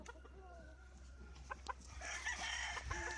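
Fighting roosters at a cockfighting pen cluck and call faintly, in scattered short bursts over a low background hum.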